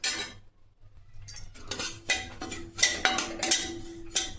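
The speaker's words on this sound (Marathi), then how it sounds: "हे एक 3 ते 4 मिनिट भाजून घ्यायचं आहे." Coarse semolina for sheera being stirred and dry-roasted in a pan with a spoon, giving light metallic clinks and scraping taps that recur irregularly against the pan at close range, with no voices.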